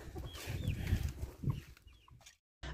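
Chickens cluck and murmur softly at a distance, with a few brief calls, before a sudden cutoff.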